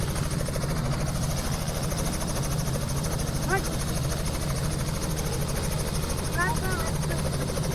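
A helicopter flies over a village, its steady rotor thump and engine drone filling the scene continuously, with a few faint bird chirps and background voices.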